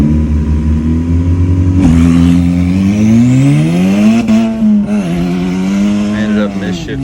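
Race car at the start of a race, its engine revving hard and climbing in pitch through the gears, loud and near, with a brief shift break in the middle.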